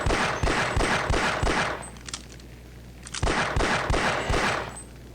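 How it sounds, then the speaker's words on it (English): Pistol shots fired at an advanced zombie in the Opposing Force video game, coming as two rapid strings of loud, sharp cracks separated by a brief quieter pause. "You can shoot his legs with the pistol."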